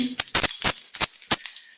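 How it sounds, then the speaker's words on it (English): A small bell rung for energy cleansing in a home gives a string of bright, close strikes, about six in under two seconds, each with a sustained high ringing tone. "You can also use bells. Bells are really powerful for cleansing energy"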